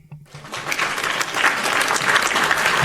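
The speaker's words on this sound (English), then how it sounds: "hit my hand claps" A canned burst of hand-clap applause plays as a sound effect, starting after a brief pause and holding steady as a dense, loud crowd of claps to the end.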